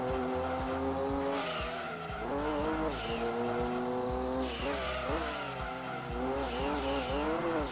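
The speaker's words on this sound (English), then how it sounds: "I do love the sound of the cars in GT2." Racing car engines in Gran Turismo 2 whine through rising and falling gear changes, with tire squeal and skidding over steady loud engine drone, no voices.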